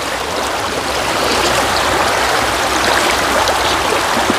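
A river stream flows steadily close by, a dense continuous rush and gurgle of water with no voices over it.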